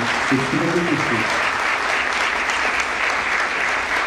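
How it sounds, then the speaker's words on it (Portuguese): An auditorium audience at a workshop on ICP-Brasil rules applauds an association member who organized the event, with steady continuous clapping and a brief voice near the start. "Queria que esse auditório desse uma salva de palmas ao nosso associado que fez esse evento acontecer."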